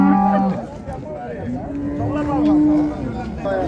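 A cow moos loudly and at length at a livestock market in Füzuli, its drawn-out call carrying over the background chatter of traders.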